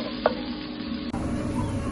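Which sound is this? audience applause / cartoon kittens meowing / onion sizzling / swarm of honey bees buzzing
onion sizzling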